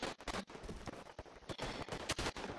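Rifle gunfire in the World War I shooter Tannenberg: a dense, rapid barrage of sharp overlapping shots, some close and loud, others scattered, with no pauses throughout.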